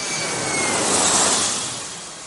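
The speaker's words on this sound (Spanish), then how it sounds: "Los aviones entraban por el Upper West Side antes de virar con dirección a La Guardia" A jet airplane passes overhead on its approach over New York's Upper West Side toward LaGuardia, heard near a museum as a loud, steady broadband roar that swells through the middle and eases slightly toward the end, with no talking.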